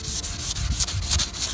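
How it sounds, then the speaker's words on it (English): Steady rubbing of sandpaper over motorcycle fairing pieces, a close, continuous scratchy hiss with quick back-and-forth strokes and no talking. "Right, sand it down."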